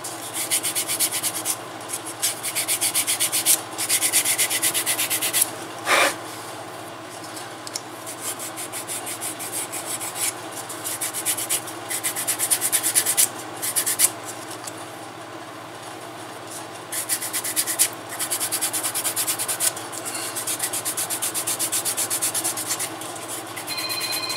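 400 grit sandpaper rubs back and forth over the edge of a leather skiving knife sheath in long, steady scraping strokes, close and continuous with short pauses between passes.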